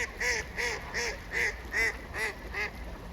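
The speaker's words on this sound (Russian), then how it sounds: "Здесь уток очень много." A flock of ducks in winter at Ukhta in the Komi Republic gives about eight rhythmic, evenly spaced quacks over several seconds, moderately close with no talk heard.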